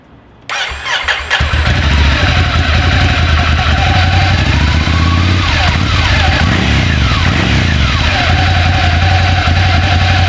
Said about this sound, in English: now we're going to get a little exhaust clip of the stock exhaust on the Scrambler